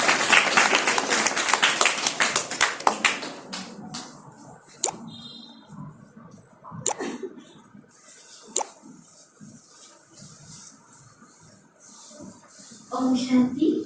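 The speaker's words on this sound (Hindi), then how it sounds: "जोरदार तालियों से स्वागत" Audience applause at a gathering welcoming a singer to the stage, a burst of dense clapping at the start that thins into scattered claps and faint room noise.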